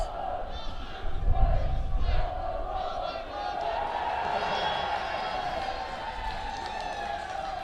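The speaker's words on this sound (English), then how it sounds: "The crowd get a wave out of David Robson as well." A crowd at a Gibraltar versus Estonia T20 cricket international roars and cheers in a sustained outdoor swell, louder at first and then holding steady, with a commentator's voice running over it.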